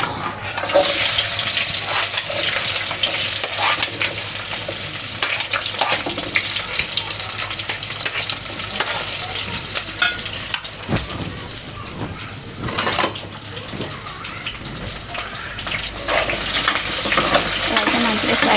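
Whole spices, cloves and cumin seeds fry in hot oil, a continuous broad hiss and crackle heard up close, with occasional utensil knocks and stirring scrapes, steady and fairly loud throughout.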